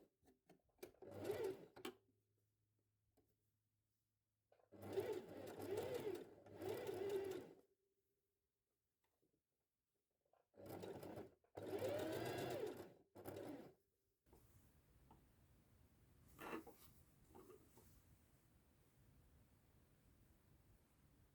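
Domestic sewing machine stitching a sleeve hem on a girl's dress, several bursts of fast whirring stitches separated by pauses, close and clear, followed by quieter handling noise.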